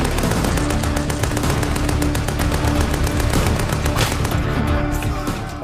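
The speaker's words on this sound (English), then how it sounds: "The artillery bombardment begins. The Australians advance under a creeping barrage." A heavy World War One artillery bombardment and creeping barrage at the Battle of Amiens roars continuously, dense overlapping booms and rapid gunfire blending into a loud, unbroken wall of explosions with no gaps.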